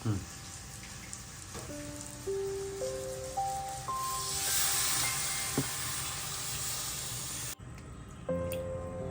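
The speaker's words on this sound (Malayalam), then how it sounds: "ഞാൻ ആ പാത്രം കൂടി കുറച്ച് വെള്ളം ഒഴിച്ച് കലക്കി ഈ ചിക്കൻ്റെ ഇതിലിട്ട് ഒഴിച്ചു കൊടുത്തു" Water is poured into the chicken marinade bowl and swirled to loosen the leftover masala for a Kerala chicken curry, producing a brief splashy pour and sloshing over a steady background hum, ending with a sharp clatter.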